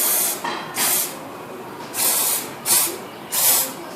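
Cleaner is sprayed from a bottle onto a Honda CBR650F motorcycle chain: five short, close, hissing squirts in an uneven rhythm, separated by brief lulls.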